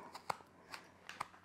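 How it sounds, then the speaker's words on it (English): Good scissors snipping paper for a colorful pinwheel craft, giving several crisp, quiet cuts at irregular intervals in a calm room. "I'm gonna take a pair of good scissors"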